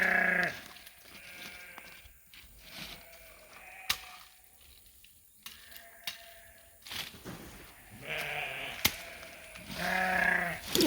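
Sheep bleating on a farm, several loud calls near the start and end with quieter bleats between, some occasional clicks and rustles in the background.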